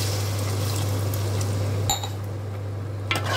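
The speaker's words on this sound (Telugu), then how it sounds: "కొంచెం వాటర్ పోసుకుని" Water poured from close range into a simmering tomato curry, a steady liquid wash over a constant low hum, with a couple of brief clinks of a utensil against the pot.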